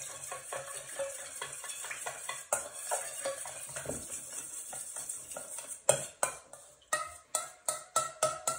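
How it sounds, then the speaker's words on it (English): A spoon stirs and mashes lime with soy sauce in a bowl, first a busy run of close scraping and clinking, then slower, distinct knocks of metal against the bowl toward the end. "Almost as I'm combining it, I'm almost using the back of my spoon just to help break down a few bits of that lime"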